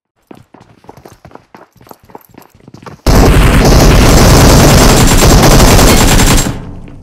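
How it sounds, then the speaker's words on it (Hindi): PUBG Mobile gunfire opens with a dozen or so sharp single shots in quick irregular succession, then a loud sustained roar of continuous automatic fire for about three seconds before cutting off. "अब यहाँ पे मैं थोड़ा सा प्री फायर देता हूँ और उसके बाद मैं रश करवा देता हूँ"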